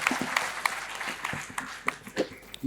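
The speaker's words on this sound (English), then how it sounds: "Let's have a huge round of applause for Mr. Sinha." Audience applause at a film festival opening ceremony fills the room with dense, steady clapping, with a few sharper individual claps standing out near the front.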